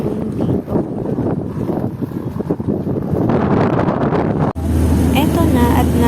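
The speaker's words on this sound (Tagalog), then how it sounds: "Paakyat na kami ng pump boat at sobrang lakas ng hangin dito." Strong sea wind buffets the microphone with rough, gusty rumble while boarding a pump boat heading for Boracay Island, steady and loud, with a voice talking underneath.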